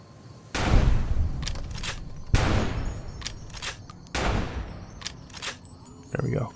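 Explosive-ammo gunfire in Fallout: New Vegas, three loud booming shots with rumbling blasts spaced a couple of seconds apart, followed by lighter clicks and game effects.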